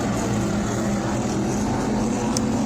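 Modified race cars roar together around the Bowman Gray Stadium track, a dense, steady wall of engine noise that stays loud and unbroken throughout.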